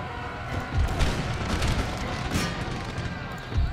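Cannon fire in the strategy game Empire: Total War, a scattered series of booms and thuds over a dense battle din, a few heavier hits standing out, mixed with what sounds like unclear background voices.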